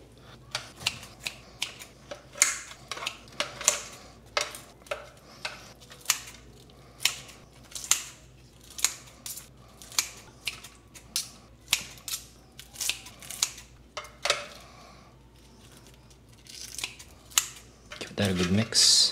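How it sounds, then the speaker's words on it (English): Kitchen scissors snip cooked chicken into small pieces, a long run of sharp, close cuts at an uneven rhythm, with faint background sound between snips. "I'm literally just using scissors here."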